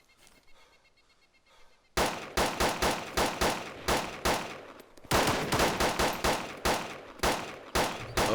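Gunfire from a gun in the video game Arma 2 DayZ rings out in rapid, evenly spaced loud shots after a quiet start, with a brief pause partway through before the firing resumes.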